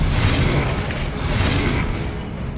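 A Confringo spell explosion in Hogwarts Legacy, a heavy, booming blast that swells and rolls on for a couple of seconds at close range.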